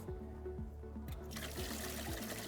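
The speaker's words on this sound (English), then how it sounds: "we'll drain the sanitizer out." Sanitizer drains from an Electro Freeze CS-700 soft-serve ice cream machine in a steady trickling flow that grows louder and more splashy partway through, with a repeating mechanical hum underneath and no talking.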